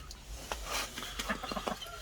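Chickens raid feed in a wheelbarrow, giving scattered soft clucks and pecking sounds at a quiet, close-to-middle distance over faint background noise.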